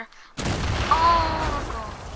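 A single loud C4 blast in a squad-based shooter game, bursting suddenly after a quiet moment and rumbling on with a long, decaying roar.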